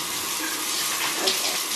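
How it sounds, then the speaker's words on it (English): Shower water running to bathe a dog, a loud steady spray close by with no talk. "Let's get Luna in the shower now."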